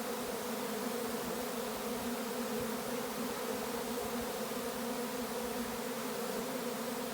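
Honey bees swarm around hives in a dense, steady buzz that fills the whole stretch, loud and close with no pauses and no voices.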